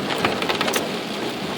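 Rain beats on a moving car with the windshield wipers running, making a dense, steady patter and hiss close around the cabin, with a few brighter taps and no voices.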